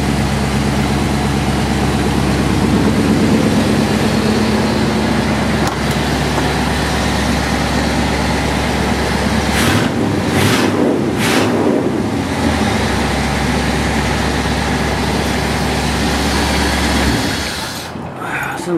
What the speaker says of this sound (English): The engine, even when it's cold, is real responsive.